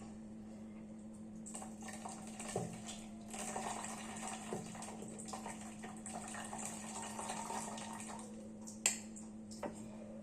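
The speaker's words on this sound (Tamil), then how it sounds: "அந்த மோரை இப்படி வச்சு ஊற்றிக்கலாம்" Buttermilk is poured off freshly churned butter through a spork, a soft, faint, continuous trickle and splash of liquid with a few small clinks, without talking.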